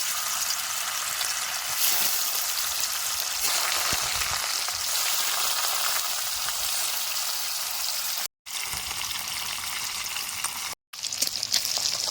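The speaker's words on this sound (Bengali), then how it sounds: "মাছটাও সর্ষের তেলেই বাজলাম" Fish frying in mustard oil in a wok gives a steady, busy sizzle and spatter close by, continuous apart from two brief cuts to silence, with no talking.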